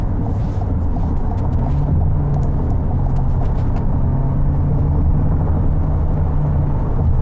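A 2022 Toyota Corolla Cross with a 169-horsepower engine merges into highway traffic, its steady engine hum blending with a constant low road rumble and tire noise from inside the cabin.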